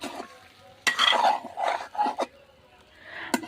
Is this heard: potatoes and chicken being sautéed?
yes